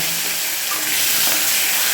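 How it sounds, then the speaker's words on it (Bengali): Tomatoes go into a wok of spices tempered with five-spice seeds and bay leaf for ghugni, producing a loud, dense frying hiss that swells steadily and stays close throughout. "দিয়ে দিলাম টমেটো"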